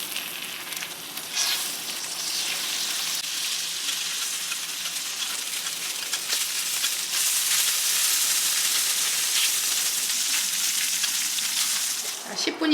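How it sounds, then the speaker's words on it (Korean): Cleaned abalone fries in melted butter in a pan, giving a continuous close, bright sizzle with no talk over it. "손질한 전복을 넣어서 버터에 구워주도록 할게요"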